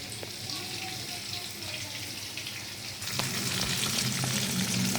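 Eggs frying in a pan for anda do pyaza, a steady close sizzle and hiss that grows louder and brighter partway through, with no talk over it.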